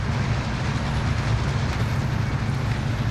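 A video-game train rumbles past in a continuous, loud, low roar with no break or talk over it.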